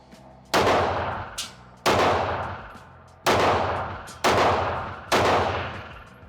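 Five loud, sharp shots from a Fusion XP Pro pistol, fired one at a time at roughly one-second intervals, each with a short echoing decay, heard close up with no talking.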